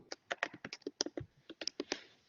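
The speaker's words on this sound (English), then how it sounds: "You've got your mic on and you're typing at the same time" Typing on a computer keyboard during an online class, a quick irregular run of crisp key clicks close to the mic, heard alone without talk.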